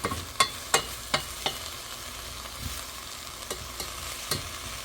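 Gooseberries and sugar heat in a pot on the way to a boil, with a soft bubbling sizzle under a series of clear spoon-scrape and clack sounds spaced irregularly; no voices.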